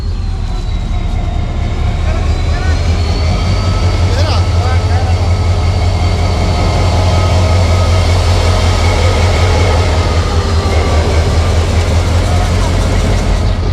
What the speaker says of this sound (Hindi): ले जी, ट्रेन निकल रही है।